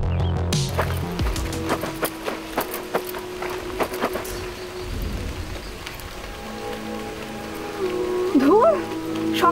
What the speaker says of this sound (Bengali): সকাল থেকে বৃষ্টি শুরু হয়েছে